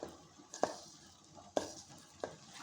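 Mashed potato being kneaded by hand with mustard oil, giving a few soft squelching, slapping presses spaced about a second apart, close and fairly quiet.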